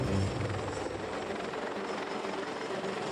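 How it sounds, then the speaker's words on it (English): A navy helicopter struggles to land on a ship's flight deck in heavy swell, its rotor and engine roaring loudly and steadily throughout, with no talk. "The helicopter is desperately trying to land on deck."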